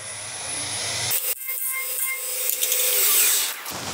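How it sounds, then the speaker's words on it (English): A spindle roughing gouge cuts a very soft, open-grain pine workpiece on a lathe, a loud, rushing scrape that swells and holds for a couple of seconds before stopping. "We'll just demonstrate what a spindle roughing gouge will do to it."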